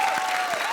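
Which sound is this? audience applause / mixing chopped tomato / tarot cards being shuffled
audience applause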